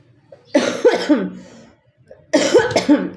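A person with a bad cold coughs in two close bursts, each a cluster of harsh, rapid coughs with a short pause between, near and loud.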